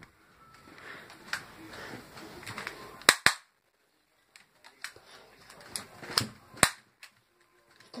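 Toy gun firing in a play gunfight at home: a close pair of sharp, loud cracks, then several smaller snapping pops scattered over the following seconds.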